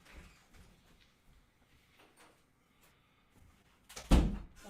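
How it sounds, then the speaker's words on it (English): Faint rustling and soft shuffling, then a single solid thunk as a door shuts nearby. "Hold on, I'm just going to close my door."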